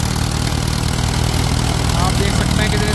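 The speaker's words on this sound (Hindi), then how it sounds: "ट्रैक्टर 50 हॉर्स पावर है" An Arjun 555 tractor with a 50-horsepower, four-cylinder engine runs steadily while driving a thresher, giving a loud, continuous low rumble and mechanical clatter throughout, with a voice faintly audible beneath.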